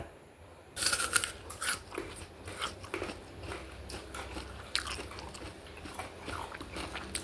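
Raw karonda fruit is bitten and chewed without any dip, giving crisp close crunches and wet chewing in a quiet room with no talking.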